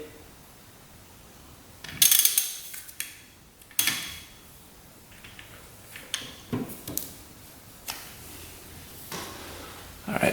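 Motorcycle engine crank on a bike left sitting for 27 years, turned by hand: irregular mechanical clicks, ratcheting ticks and clunks, close and fairly quiet, spaced unevenly with pauses between.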